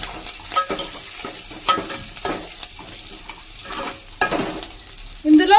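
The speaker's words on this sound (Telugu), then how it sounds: "కొంచెం అలా ఫ్రై అవ్వాలా" Curry leaves frying in hot oil for a Nellore-style pappu pulusu tempering, a soft continuous sizzle broken by occasional stirring scrapes and a few sharper spatters near the end.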